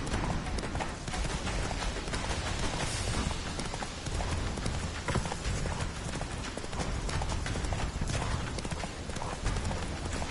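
Roach, the horse in The Witcher 3, gallops hard with a dense, continuous drumming of hooves. The hoofbeats sound loud and close and run without a break.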